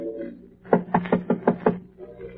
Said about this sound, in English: Then he knocks.